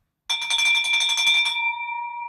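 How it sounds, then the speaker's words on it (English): A bell is rung once, giving a bright metallic strike that rings and shimmers for about a second, then fades into a sustained ringing tone. "I'm gonna ring the bell for you, Marcus"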